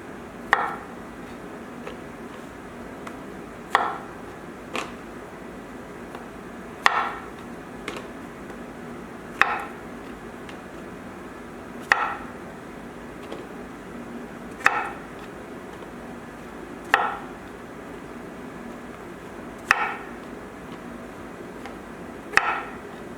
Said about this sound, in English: Then we're going to cut them again.